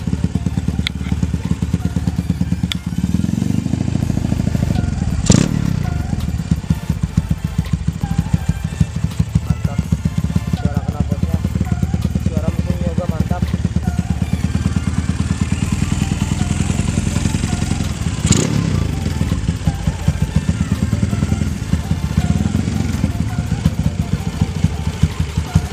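Close idling of a Honda CB motorcycle, a CB GL100-based custom, producing a smooth, even rhythmic rumble throughout, with occasional brief clicks and someone speaking intermittently over it.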